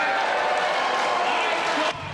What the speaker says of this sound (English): There was plenty of cheering and booing.